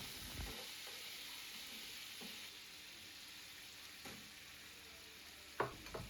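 Continuous sizzling of chermoula frying in butter and oil in a hot pan, with a few soft stirring clinks and scrapes.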